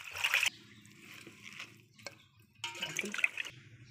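Tap water running and trickling while green chillies are washed for gongura dal in a home kitchen, two louder splashing bursts at the start and end with quieter dribbling between.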